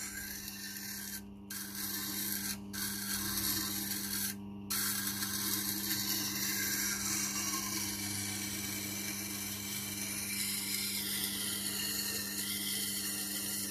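Blade of a vintage Opinel No. 12 knife ground on a Tormek 220-grit wheel, a continuous whirring, grinding drone with a steady low hum, briefly interrupted a few times early on as the blade lifts off the wheel.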